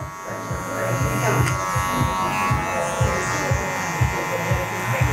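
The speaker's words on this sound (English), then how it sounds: "a little bit of clipper over comb too" Electric hair clippers cutting short hair clipper-over-comb during a short crop Caesar-style fade, buzzing steadily with repeated short strokes, close by, with a voice talking at times.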